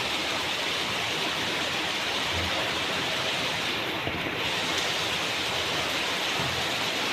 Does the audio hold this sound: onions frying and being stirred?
no